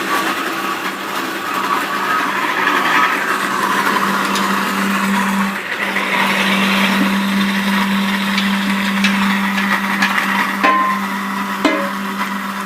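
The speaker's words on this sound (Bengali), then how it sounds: "কাকা এখন পেঁয়াজ পেস্ট করছে বন্ধুরা" A kitchen machine grinds onions into paste for gravy, a steady close whirring motor drone that runs throughout with a constant hum, no voices over it.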